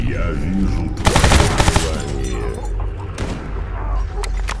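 Gunfire from distant fighting in the video game Stalker GAMMA, at the CNPP: bursts of rapid automatic shots with sharp single cracks, moderately loud, with a faint voice underneath.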